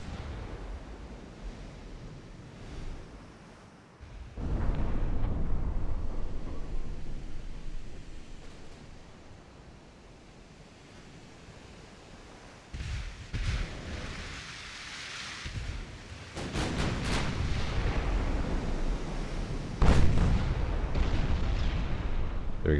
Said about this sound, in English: Let's get a long-range torpedo spread